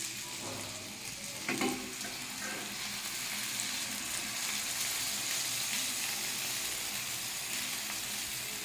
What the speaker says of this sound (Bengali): এখন এটাতে জল দিয়ে দেবো।